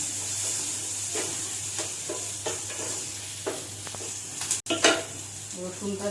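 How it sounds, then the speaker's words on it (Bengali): Finely sliced onion frying over a low flame in a pan, a soft steady sizzle under scattered scrapes and stirring clatter, with a brief dropout and a few sharper bumps near the end. "পেঁয়াজটা আমি খুব ঝিরি করে কেটে নিয়েছি, এটাকে প্রথমে ছেড়ে দিলাম। লো ফ্লেমে এটাকে করব, একটু ভাজবো"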